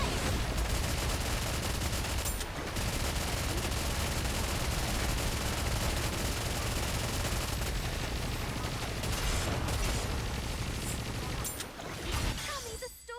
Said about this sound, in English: Full speed ahead. Aegis cannon. Fire.